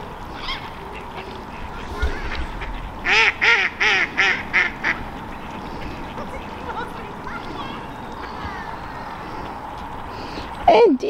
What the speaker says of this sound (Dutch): En die daar, die zijn eendjes.